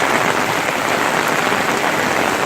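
Steady rain pours down at an outdoor swap meet, a dense, even hiss filling the scene, close and loud with no talk.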